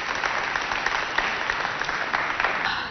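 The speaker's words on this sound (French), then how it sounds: "On applaudit pour accompagner Constantine." Steady applause from an audience, a dense patter of clapping that holds at an even level throughout.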